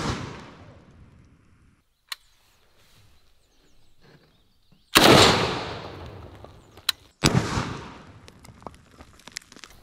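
Sharp, loud gunshots from a micro Draco pistol fired outdoors: an isolated crack early, then two close, powerful reports with echoing decay later, separated by quiet stretches.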